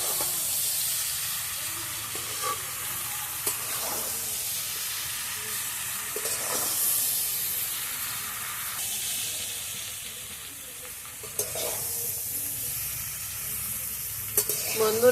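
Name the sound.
stirring tomato cauliflower curry cooking in a pan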